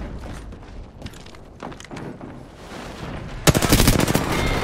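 Gunfire in the video game Apex Legends, scattered shots at first and then a sudden close, loud burst of rapid automatic fire that continues to the end, with no talking over it.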